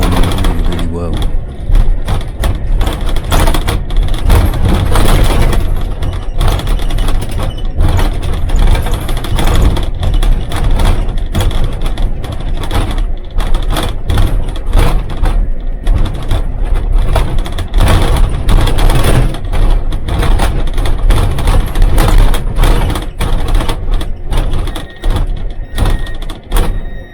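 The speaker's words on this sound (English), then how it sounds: "You can also hear the thumps and bumps as the bus is rattling down the road." A bus rattles and bumps down a road, with a loud, steady engine drone, constant rattling and irregular thumps throughout, and a voice talking over it.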